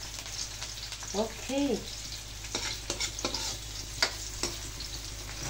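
Green chili peppers fry and are stirred in a pan, with a steady sizzle broken by sharp spatula clacks. A voice speaks briefly near the start.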